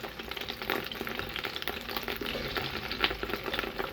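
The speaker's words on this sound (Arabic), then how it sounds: "لانه كتير عم بيطرطش البصل كتير" Onions fry in a deep cooking pot, crackling and spattering steadily in a dense, close sizzle with sharp pops throughout, heard alone and fairly quietly.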